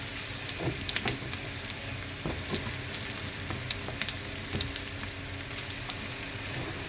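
Onion and pre-boiled snails frying in a pan with ginger, a steady close sizzle broken by scattered crackles and pops, with no talk over it.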